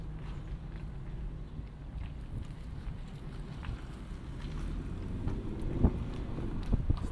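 Lexus LC 500 convertible engine giving a low, steady rumble while driving slowly in comfort mode, heavy with wind buffeting across the open cabin and a couple of faint knocks near the end.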